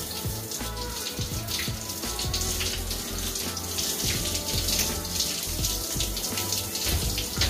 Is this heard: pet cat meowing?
no